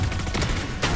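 Rapid gunfire in a video game, a short dense string of quick shots packed into one second, loud and close, ending in a heavier blast.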